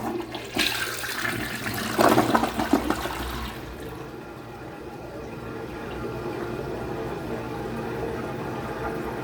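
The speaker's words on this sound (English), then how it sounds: "Second flush and they're still there." A Toto Drake elongated toilet flushes loudly up close, a rushing surge that tails off into a softer, steady sound of water refilling the tank.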